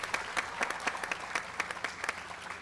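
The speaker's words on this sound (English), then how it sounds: "I want to give a huge round of applause, please, to Ms. Capolo and our amazing PTA volunteers" Applause at a school board meeting for PTA volunteers, scattered moderate claps from a modest audience, fairly quiet and steady with distinct individual hand claps.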